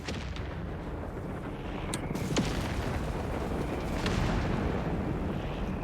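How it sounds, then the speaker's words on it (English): Artillery fire in the Company of Heroes 3 strategy game: dense, rumbling battle noise with a few sharp reports and distant booms layered over a constant low roar. "There we go, nice artillery, wiping them out."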